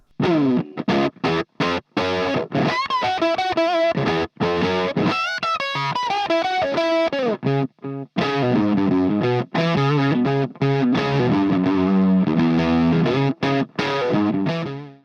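Heavily distorted electric guitar through an octave pedal, with an octave-doubled, fuzzy tone, plays a fast, choppy riff with sharp stops and sustained notes, loud and upfront.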